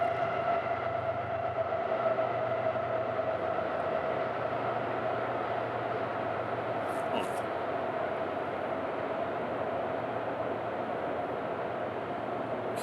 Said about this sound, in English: You guys hear that train?